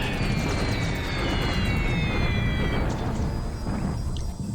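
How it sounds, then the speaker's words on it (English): Explosions from a WWII bombing raid over Clark Field in a video game, heavy continuous rumbling blasts and crashes with whistling descending tones, loud and dense throughout without speech. "Another bombing raid comes in over Clark Field."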